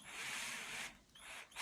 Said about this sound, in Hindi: हम इस पर अब ड्रिल करके देखते हैं